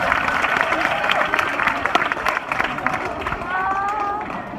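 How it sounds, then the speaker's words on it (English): Zoo audience at an Australian tiger show clapping after a tiger's attempted jump, a broad wash of applause from a crowd outdoors, steady for several seconds with a presenter talking over it. "Give her a clap anyway, because we got in there."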